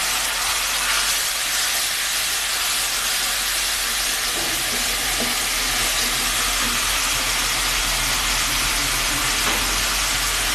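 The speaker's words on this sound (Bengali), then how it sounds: "দিয়ে দেব সামান্য একটু জল।" Ground spices for a prawn and potato curry fry as a splash of water goes into the pan, producing a loud, steady hiss and sizzle that carries on throughout, close by, with no talking.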